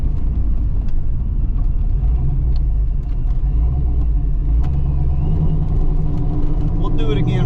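Ford Mustang Foxbody with a T5 manual gearbox, engine rumbling loudly as the throttle is blipped quickly on and off during a speed shift, a deep steady roar from inside the car.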